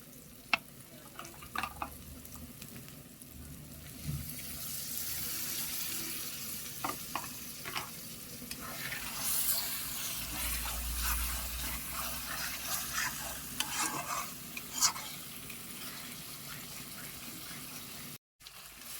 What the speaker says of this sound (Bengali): মশলাটা ভালো করে কষানো হয়ে গিয়েছে